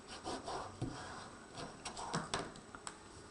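A tool rubs and burnishes a paper stamped greeting card, giving quiet, irregular scraping strokes close by with no talking.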